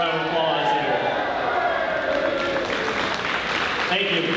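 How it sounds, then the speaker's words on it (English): Dense, steady crowd applause at a community high school basketball rivalry game between the Bulldogs and Tigers, filling a gym evenly and loudly for the full duration with no pause. "if we could all wave that and give him a little round of applause here"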